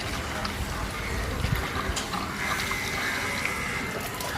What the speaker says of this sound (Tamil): ஃபுல்லாக தண்ணியை இந்த ஓஸில் ஃபில் பண்ணணும்.